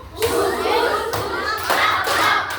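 Students in a classroom clap in a call-and-response clapping game, giving a few sharp hand claps in short groups while a voice carries on over them.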